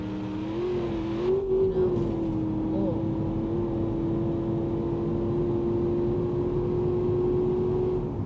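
Gavril Bandito car driving in the BeamNG Drive video game: a steady engine drone held at a fairly constant pitch after a brief rise early on, loud and continuous with no talking over it.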